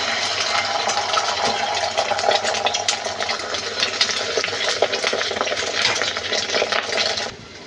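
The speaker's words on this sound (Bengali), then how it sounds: "কড়াইয়ে তেল গরম হয়ে গেছে, এবার ডিমগুলো আমি ভাজি করে নেব।" Beaten eggs fry in hot oil in a wok, giving a steady, loud hiss with scattered crackles and faint utensil clinks that runs without pause, then drops away at the very end.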